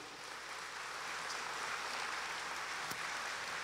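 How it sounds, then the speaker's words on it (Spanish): An audience at a convention in El Salvador applauds a couple being introduced, a steady, dense wash of clapping that fills the whole stretch at a fairly even level, without talk over it. "Por favor, un fuerte aplauso."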